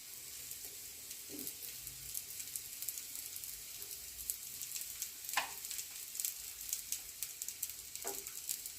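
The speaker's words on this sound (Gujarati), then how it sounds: "હવે એકદમ સ્લો ગેસ રાખી અને ભાખરીને શેકવાની" Gujarati bhakhri roasting in a pan over a low gas flame, giving a steady quiet sizzle and hiss with a few brief soft scrapes, heard up close without talking.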